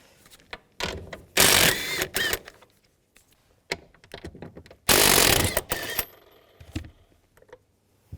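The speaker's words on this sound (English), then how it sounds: "Then take a 15mm socket. I'm gonna take these nuts out right there," A 15mm socket on a ratchet works car seat nuts loose, giving bursts of quick metallic ratcheting clicks separated by handling knocks and pauses, close and loud.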